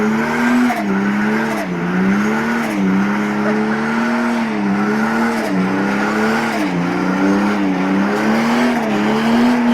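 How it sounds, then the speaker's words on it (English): A car with a turbocharged Ford Australia Barra engine does a burnout, its engine held at a loud, steady high rev that wavers up and down with a continuous rubbery roar and tire squeal throughout. "That is a hell of a burnout."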